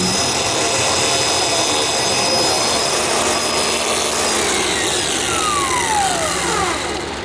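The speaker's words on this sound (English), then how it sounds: "The right way to do it is to grind the nut, not the bolt, but we'll do what's easiest." Power tool grinding off a nut during dirt bike prep, a loud continuous broadband grind with a whining tone that drops in pitch toward the end, steady throughout with no talking.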